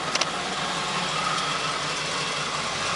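A 1969 Chevrolet Impala with a 327 V8 idles after a carburetor rebuild, a steady close rumble that holds evenly throughout with no voices.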